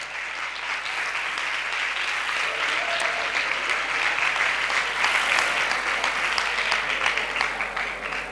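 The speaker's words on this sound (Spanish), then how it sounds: "daré un aplauso" Sustained applause from an audience at a medical seminar, a dense steady wash of many hands clapping that stays loud and even throughout the clip.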